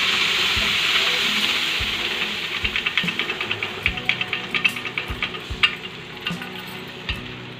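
Cooked dal from a pressure cooker tipped into a hot frying pan, setting off a loud steady sizzle, followed by rhythmic scraping strokes of a spoon stirring it, close up with no talking.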